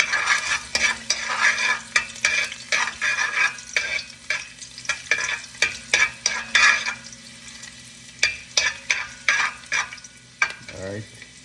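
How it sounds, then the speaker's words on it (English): Thyme and garlic sizzle and crackle in hot frying oil for a Jamaican dish, with steady bright spitting broken by repeated stirring scrapes, loud and close, no talk. "I like to add my thyme to the oil first, and then I add my garlic."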